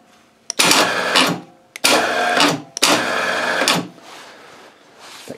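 A small braked electric winch motor on a temporary underground bunker lift runs in three loud whirring bursts, each opening with a sharp click of the brake releasing, followed by quieter fainter runs.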